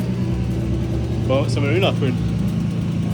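A turbocharged BMW E36 323 idles steadily on a dyno, a low constant engine rumble running throughout while a person speaks briefly over it.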